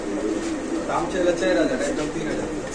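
Black Lahori and Pakistani teddy pigeons cooing close by, soft repeated throaty coos over a few seconds while someone talks over them.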